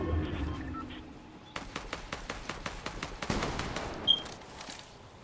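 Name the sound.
gunfire in the video game Fortnite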